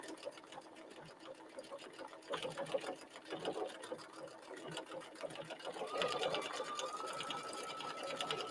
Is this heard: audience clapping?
no